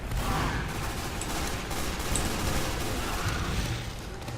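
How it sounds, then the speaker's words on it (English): Pistol gunfire between scouts in a video game makes a dense, continuous crackle of shots that runs at steady loudness for the whole stretch, with no talking. "The old pistols at dawn moment for scouts"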